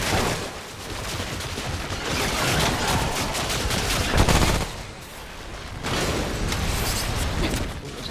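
In the video game Remnant: From the Ashes, a turret fires rapid sustained bursts of gunfire, loud and dense, pausing briefly midway before resuming.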